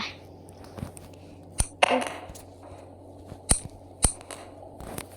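Sharp cartoonish gunshot pops from the Melon Playground game, five or six isolated cracks spread unevenly over a low background hum.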